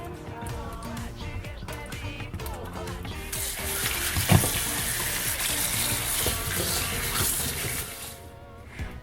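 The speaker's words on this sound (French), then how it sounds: "Sortez les poissons de l'eau avec le gros sel et lavagez." Tap water running while fish are washed with coarse salt in a kitchen, a steady hiss and splash that grows louder partway through, with a faint clatter and background music underneath.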